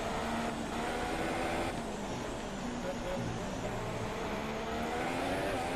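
A Formula 1 car engine in F1 2017 drones at a steady high pitch through a lap of the Singapore circuit, with a voice talking over it throughout.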